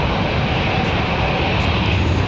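An Air Canada Jazz airliner departs from Raleigh-Durham International Airport on a windy day, its engines giving a loud, steady broadband roar throughout the short stretch.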